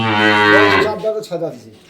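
A Jersey and Red Friesian crossbred dairy cow at a farm in Dinajpur gives a loud, close, drawn-out moo that rises and then breaks into shorter lowing calls.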